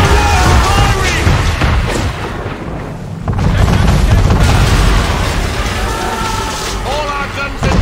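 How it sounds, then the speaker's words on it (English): A man-of-war warship fires its cannons in the video game Assassin's Creed III: loud, rumbling booms and blasts roll on continuously, with voices shouting over the barrage. "Man of war firing!"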